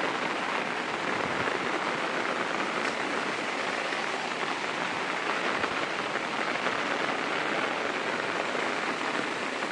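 Steady monsoon rain falls in a Konkan village near a school and river, a dense, even hiss of drops pattering on surfaces that stays loud and unbroken throughout, with no voices.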